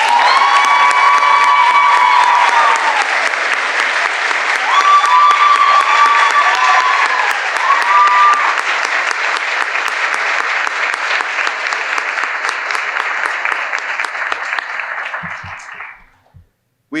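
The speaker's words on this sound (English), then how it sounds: "Can we please give a round of applause once again for our faculty and staff?" An audience at a law school graduate awards ceremony applauds for faculty and staff: sustained loud clapping mixed with cheers and whoops for about fifteen seconds before fading out to silence.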